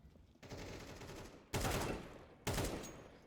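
Gunfire in a tactical shooter video game: a rapid burst of automatic fire, then two sharp, loud volleys after pauses, close and alone.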